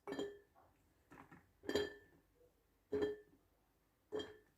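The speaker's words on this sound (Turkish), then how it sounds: "Şimdi arkadaşlar yıkadığımız salatalıkları kavanoza yerleştiriyoruz." Washed cucumbers set one by one into a glass jar for pickling make five distinct, separated clinks and knocks of glass, close and fairly quiet, with soft handling sounds in between.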